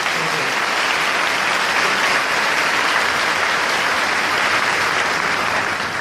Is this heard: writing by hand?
no